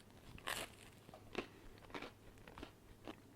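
Several close crunchy bites into a crispy grilled Lebanese arayes, a meat-stuffed pita, in ASMR style, four or five sharp crackling bites spaced about half a second apart with quiet chewing between, no talking.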